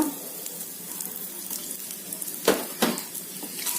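Grated coconut and dried red chillies roast in a pan for coconut rice, giving a soft, steady sizzle with a couple of sharp stirring scrapes near the middle, close and fairly quiet.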